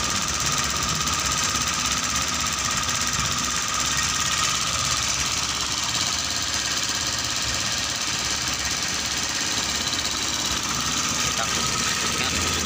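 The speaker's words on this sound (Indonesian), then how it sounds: "Yang penting motor bisa hidup di bawah ya." A VIAR motorcycle engine runs steadily for the whole stretch, a dense continuous mechanical drone with a knocking, rattly texture, close and loud, with no pauses.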